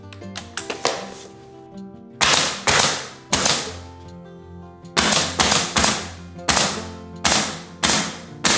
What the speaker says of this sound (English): This nail is quite large, so I'm using a high-pressure nail gun.